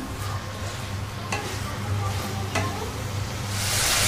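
Fennel, cumin, ginger, garlic and chili powder frying in oil for a mushroom curry, a steady sizzle with a couple of sharp stirring clicks and a louder hiss rising at the end.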